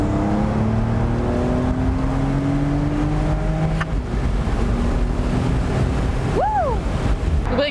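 A 385 PS Porsche 911 Carrera Cabrio of the 992 generation drives onto the Autobahn with the top down. Steady engine tones climb through the gears under constant wind buffeting and road rush.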